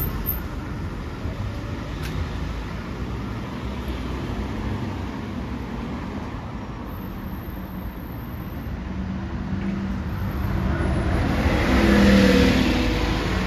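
An Audi RS revs its engine on a street in Kings Heath, Birmingham, over a steady traffic rumble, and the engine note swells loudly near the end.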